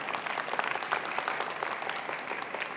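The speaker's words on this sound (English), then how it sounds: "So a huge round of applause to InnoVEX and Computex for pulling off an amazing event every year." An audience at the InnoVEX technology conference applauds, a dense, steady patter of many hands clapping throughout, moderately loud and with no voices over it.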